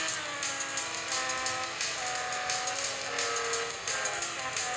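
Racing car engines in Real Racing 3, including a BMW, drone steadily and loudly with layered high whine and shifting pitch, several cars close together without pause.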